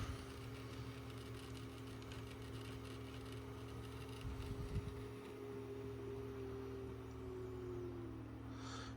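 A model railway locomotive runs on layout track, giving a faint, steady electric motor hum that glides down in pitch near the end as it slows, with a light mechanical rattle partway through.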